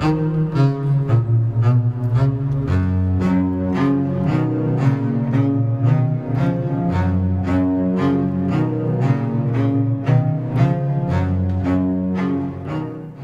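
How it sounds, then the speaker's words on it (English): Bach crab canon from the Musical Offering, a palindromic line played forward and backward layered on itself: two interlocking melodic voices in steady, evenly plucked notes, a continuous moderate pulse without talk. "It's what they call a perpetual motion canon."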